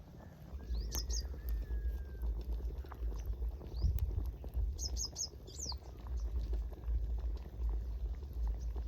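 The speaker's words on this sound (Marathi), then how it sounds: "मस्त उकळीसुद्धा फुटलेली" Black ghevda aamti, a village-style bean curry, bubbling at a steady boil in an uncovered pot, a continuous low rumbling simmer with birds chirping now and then in the background.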